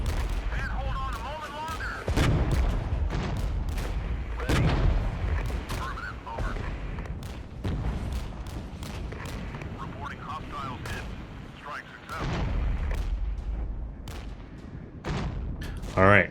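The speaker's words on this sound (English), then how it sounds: "we have the off-map artillery coming in" Off-map artillery barrage in the WWII real-time strategy game Regiments, heavy booms and rumbling blasts repeating through the stretch over a constant low battlefield roar, loud and dense.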